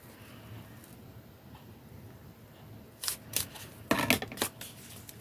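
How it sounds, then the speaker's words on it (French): Scissors snip paper to shape a small Easter treat box. A few sharp, close cutting clicks come in quick bursts near the end after a quiet stretch of faint room noise. "Et je viens couper ici."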